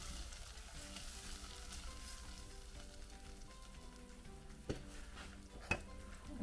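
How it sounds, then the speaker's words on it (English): Patatas bravas fry with a steady close sizzle while tomato sauce is stirred through them; a few brief clinks of a utensil against the pan stand out near the end. "I'm gonna add the tomato sauce. And give that a stir."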